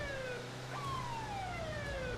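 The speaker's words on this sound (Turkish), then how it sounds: "Harbiden adamın sirenle uyuz oldum" Wailing police siren from a GTA 5 LSPDFR police mod, rising and falling in steady sweeping tones over a low engine hum, loud and continuous throughout.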